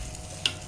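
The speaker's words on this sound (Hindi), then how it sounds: "ये देखिए हम ऊपर से छौंक मार रहे हैं लौंग और इलायची का" Hot ghee sizzles as cloves and cardamom are tempered in it for a sweet vermicelli milk dessert, a brief bright hiss with a small splash-like burst.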